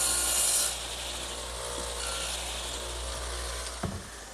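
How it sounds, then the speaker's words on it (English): A radial arm saw fitted with a twin-blade dado head cuts a wood tenon, giving a steady, loud whirring grind throughout that eases slightly after the first half second, with a brief knock near the end. "in the radial arm, I've installed this twin blade dado head cutter, and that'll be used to plow out the material"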